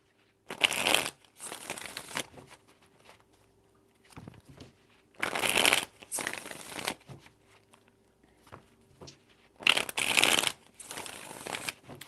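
Tarot cards being shuffled in three separate bursts of riffling and flicking, close and crisp, with quieter handling taps between them and no talk.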